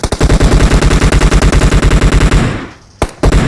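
Loud automatic rifle fire in the battle royale game PUBG Mobile, a rapid, steady burst of close shots that cuts off briefly, then a couple more sharp shots.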